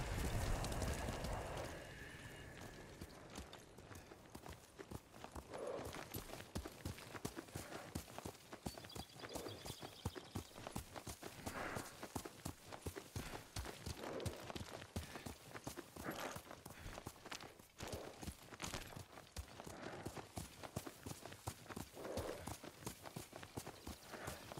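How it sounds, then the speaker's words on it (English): In the video game Ghost of Tsushima, a horse's hooves clip-clop in a steady, even walking rhythm that continues throughout, moderately close, with ambient wind behind. "Yuriko's horse. She can't be far."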